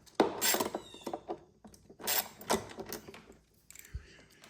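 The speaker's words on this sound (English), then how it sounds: "Put our washer on, our nylock nut, and we'll tighten it down." A nylock nut with a washer is run down and tightened onto a Dinan carbon fiber cold air intake on a BMW M340i, giving close, uneven metallic clicks, scrapes and ratchety rasps in short bursts with brief pauses.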